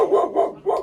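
A dog gives three quick, loud barks in a row, close by, with no other sound around them.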